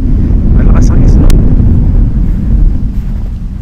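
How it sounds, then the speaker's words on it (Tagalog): Strong wind roars during a snowstorm, buffeting the microphone with a dense low rumble and steady gusting throughout, while a person speaks briefly over it. "Malakas ang ugong ng hangin pero hindi pa ganun kalakas."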